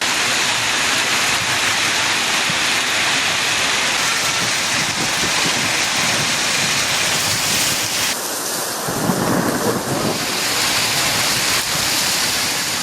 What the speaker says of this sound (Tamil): கனமழை பெய்ய தொடங்கியது.